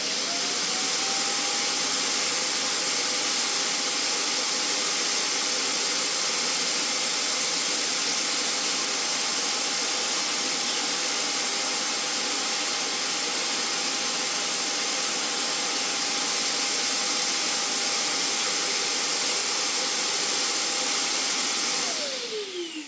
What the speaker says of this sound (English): go to Dust Collection, and press self-empty now.